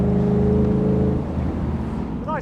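Shelby Cobra V8 engine revving, a loud, close, deep burbling drone that holds steady, then drops to a rougher, uneven rumble as the throttle eases.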